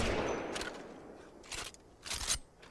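Gunfire in Apex Legends during console aim practice: a loud burst at the start fading away, then several separate short bursts of shots, fairly near, with quiet gaps between.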